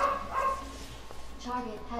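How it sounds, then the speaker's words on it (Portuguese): Dogs bark and yip in a room, a few short sharp barks and whimpers from a little distance mixed with game sounds and a voice talking over them. "Meus cachorros ali estão na pura revolta."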